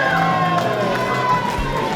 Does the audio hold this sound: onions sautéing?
no